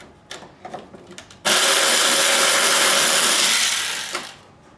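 A ratchet or tool works a 12 mm rear tank mount bolt on a motorcycle: a few light clicks, then a loud continuous whirring burst lasting about three seconds before it fades out.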